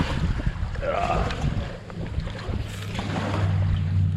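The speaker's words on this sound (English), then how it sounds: "the wind's picked up so much, I'm gonna have to reef my sunshade" Strong wind buffets the microphone on a beach during solo sail camping with a Hobie Cat, a steady low roar with gusts that swell toward the end, with no talking.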